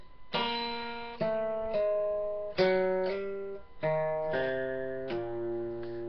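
Clean guitar in open D tuning picks out a short bluesy riff, with notes plucked and pulled off on the fifth string in a relaxed rhythm, fairly quiet and close.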